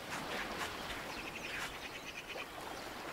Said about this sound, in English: I like the oceanic sounds and the bird sounds.